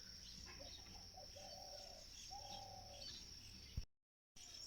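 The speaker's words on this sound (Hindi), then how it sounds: "अभी भी चिड़ियों की चहचहाट लगी है वहाँ पे" Birds chirp and tweet in short repeated calls outdoors on a calm early morning beside a house, moderately distant over a steady background hiss, with a brief gap near the end.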